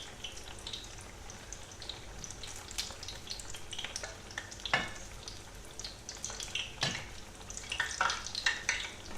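Zucchini slices fry in hot oil in a pan, giving a steady close sizzle with scattered pops and occasional utensil scrapes and taps, no voices.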